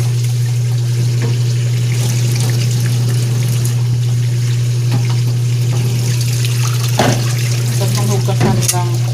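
Water runs steadily from a tap while rice is washed before cooking, giving a continuous close splashing trickle. A low steady hum sits under it, and a few louder knocks and sloshes come near the end.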